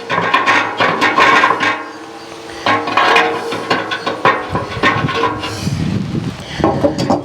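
Metal rebar rods clank and scrape into a Pit Barrel cooker, with several close knocking, clinking impacts in bursts and some rubbing between them.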